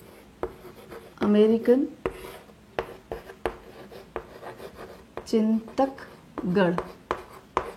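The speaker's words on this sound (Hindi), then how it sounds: "इसको मैं यहाँ लिख दे रही हूँ" Chalk or marker writing by hand on a board in a teaching setting, with bursts of scratchy strokes mixed among taps while someone speaks over it.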